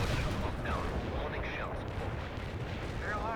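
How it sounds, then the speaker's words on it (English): Precision artillery strike in the video game World in Conflict: a continuous heavy rumble of distant shelling and explosions, dense and sustained, with faint voices audible underneath. "Some more precision artillery over there."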